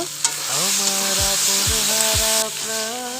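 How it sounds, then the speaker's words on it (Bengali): Boiled potatoes are sautéed with masala in a pan, giving a steady close sizzle with a few stirring scrapes and a wavering tonal whine running underneath. "আলু দিয়ে ভালো করে কষে নিব"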